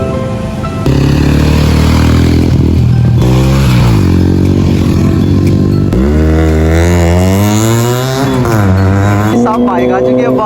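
Kawasaki Z900 motorcycle exhaust revving loudly up close in a series of sharp throttle blips that rise and fall, with people talking nearby.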